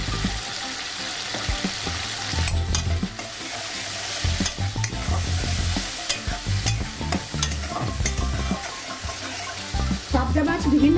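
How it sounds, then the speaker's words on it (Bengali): Mustard paste, salt and turmeric are stirred in a frying pan over a lowered gas flame while fish curry is being made. The scraping is loud and continuous, with a steady sizzle underneath, and a few brief clinks. "এখন গ্যাসের আঁচটাকে কমিয়ে আমি দিয়ে দিচ্ছি এই সর্ষে।"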